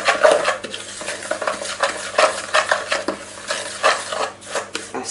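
A utensil stirs a paste of oil and leaves in a pan, producing repeated scraping and clinking strokes in an uneven rhythm with a light sizzle underneath, close and fairly loud.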